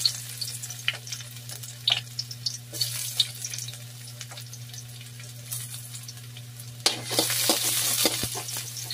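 Garlic fries in a pan for sweet and sour tilapia, a steady hiss of sizzling oil with occasional stirring clatter over a constant low hum. The sizzle grows louder and brighter near the end.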